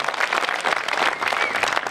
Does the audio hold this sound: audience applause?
yes